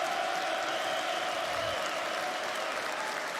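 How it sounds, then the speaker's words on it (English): Applause from a live show audience, steady dense clapping at moderate distance with a faint murmur of crowd voices running underneath. "Let's give him an applause."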